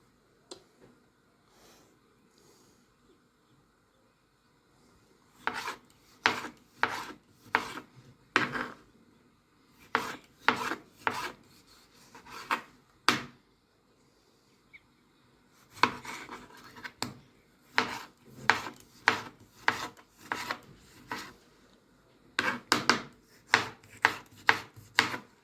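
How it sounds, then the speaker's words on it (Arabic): A knife cuts tomatoes into rings on a board, giving bursts of quick, crisp chopping strokes in several runs separated by short pauses, close and clear with no talk. "نقطعوهم ونجهزوهم. عايز تعملها حلقات ماشي، زي ما تطلع معاك الطماطم."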